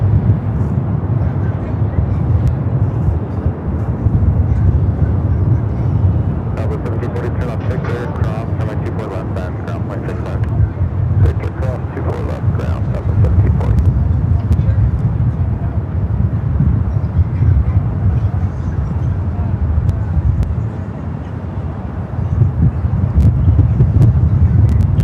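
An EVA Air Boeing 777-300ER at Los Angeles LAX airport gives off a long, steady jet rumble, mixed with wind buffeting and some talk.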